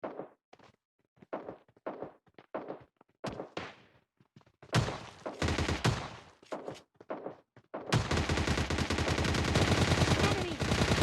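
Assault rifle gunfire in PUBG Mobile Lite: scattered sharp shots and short bursts, then a sustained loud automatic stream near the end.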